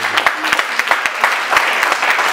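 A church congregation claps during a worship service, rhythmic clapping in a steady beat that fills the room, close and moderately loud, with faint voices underneath.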